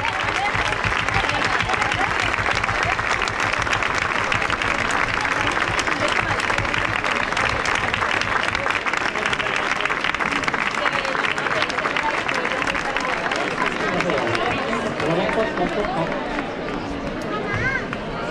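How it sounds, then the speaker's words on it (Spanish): A crowd at the trophy ceremony of the 2020 Carrera de la Mujer women's race claps in sustained, dense applause. Voices and crowd babble run underneath throughout, with talk continuing toward the end. "un fuerte aplauso"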